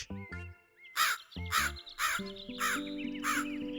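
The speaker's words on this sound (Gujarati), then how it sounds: "કાળો કાગડો ડરીને ઉડતા ઉડતા ત્યાંથી જતો રહ્યો" A black crow caws five or six times in loud, harsh, evenly spaced calls, close by, with tonal musical notes sounding in the background.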